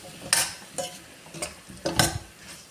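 A chicken and potato roast is stirred in a pan, with four distinct scraping, clattering strokes of a utensil over a faint sizzle, close by and unevenly spaced.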